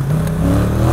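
Yamaha MT-07 motorcycle engine revving high, a loud, close, sustained mechanical drone with a steady pitch over one short second.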